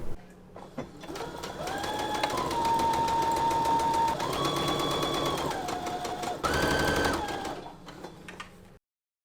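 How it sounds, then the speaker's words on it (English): Sewing machine edge stitching a 2 inch hem on pants, running in one steady whirring motor hum with shifting pitch that speeds up briefly near the end before stopping, close and alone. "So now we'll just edge stitch this to secure."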